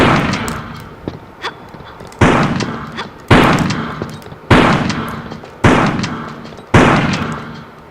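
Shotgun blasts in the Tomb Raider video game: six loud, sharp booms come at fairly regular intervals of about a second, each trailing off quickly, with a few softer thuds in between.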